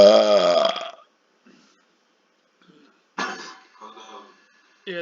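Man burping loudly in a long, deep belch, followed by a pause, then a second burp with guttural broken-up tail and the start of another at the end, heard close and alone.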